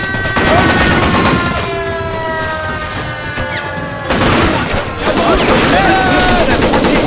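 Heavy gunfire in the video game Men of War: Assault Squad, Vietnam setting, a dense continuous crackle of shots and impacts under sustained tonal battle noise, louder again toward the end, with voice-like sounds mixed in.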